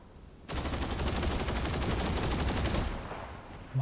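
Rapid machine gun fire in a video game, a dense continuous burst of shots lasting about two and a half seconds, loud and close, then fading to a softer rattle with no voices over it.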